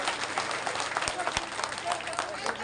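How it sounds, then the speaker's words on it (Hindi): A village crowd claps loudly to welcome Chaudhary Ranjit Singh, dense applause under a voice addressing the gathering over a loudspeaker. "एक बार जोरदार तालियों से स्वागत और अभिनंदन"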